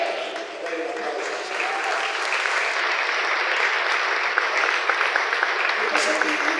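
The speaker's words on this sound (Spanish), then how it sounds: "Denle un aplauso." Sustained applause from a church congregation, steady and fairly loud throughout, with a few louder claps standing out near the end and no talk over it.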